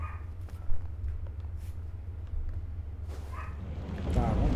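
A small pet dog barks at fireworks, faint and distant, in a few short yips over a constant low hum of game sound.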